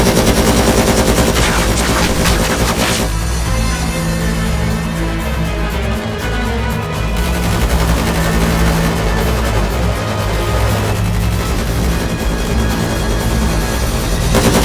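Film gunfire in a mercenary sniper action scene: loud, dense bursts of automatic fire crackle almost continuously at close range, with brief dips between volleys.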